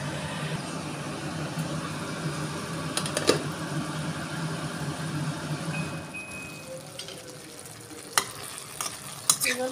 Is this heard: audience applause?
no